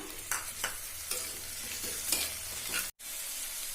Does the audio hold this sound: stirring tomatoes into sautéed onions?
yes